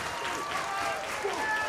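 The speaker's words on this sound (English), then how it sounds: "Crowd rallying behind him." A wrestling crowd claps and rallies behind Finley, who is in trouble in the ring; a busy wash of applause and cheering runs throughout under a voice speaking over it.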